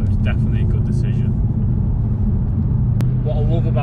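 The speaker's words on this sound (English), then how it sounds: "You're not going to get another car like this in the future that sounds this good with such a stupidly sized engine in such a small car." The engine of a Mercedes C63 Black Series coupe rumbles low and steady throughout, a deep idling drone beneath someone talking over it, with a short sharp click near the end.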